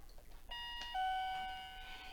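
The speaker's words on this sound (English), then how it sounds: "they might ring the doorbell" A house doorbell rings once, a series of clear, sustained electronic chime tones sounding fairly close and alone, with no talk over it.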